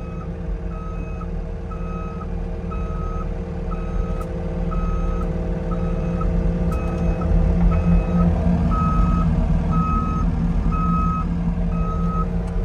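A truck hauling hay reverses, its backup alarm beeping in an even, repeating rhythm over a loud, continuous engine rumble, with no voices.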